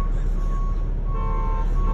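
A truck reverses with backup beeps at a traffic accident scene, a steady tonal beep pattern running throughout over loud low engine rumble and road noise.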